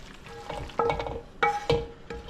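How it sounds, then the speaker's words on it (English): Ricotta cheese filling for a spinach artichoke lasagna being stirred in a bowl, with soft wet scraping and a few louder clacks of the spoon against the side, close up with no talking. "Mix that around"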